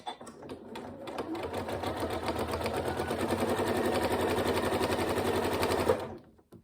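A sewing machine runs a steady stitching burst around the edges of a zipped pencil case, its rapid mechanical clatter building, holding loud and close for several seconds, then stopping.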